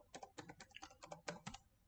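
Rapid typing on a computer keyboard, roughly a dozen distinct clicky keystrokes in quick irregular bursts, close and clear with no speech over it.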